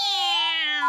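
A cartoon cat gives a single loud, close, drawn-out meow with a falling pitch and a slight lift at the end, heard alone without talk.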